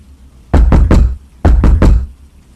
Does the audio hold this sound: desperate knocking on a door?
yes